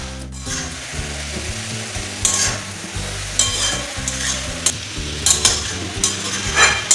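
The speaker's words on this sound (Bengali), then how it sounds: "দশ মিনিটের মতন আমি বাঁধাকপিটা ভালোভাবে কষিয়ে তুলে নেব।" Cabbage frying in a pan, stirred repeatedly; a continuous close sizzle with rhythmic scraping and bursts of louder crackle as the shreds are turned.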